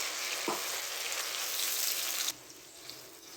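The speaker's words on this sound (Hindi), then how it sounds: "हम एक अदद प्याज ऐड करेंगे। यहाँ पे हम इसे लाइट ब्राउन करेंगे।" Chopped onion sizzles and fries steadily in a hot pan while it browns lightly, a continuous bright crackle that drops to a quieter, softer hiss partway through.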